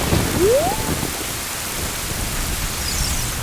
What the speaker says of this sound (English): is currently going through some major thunderstorm weather right now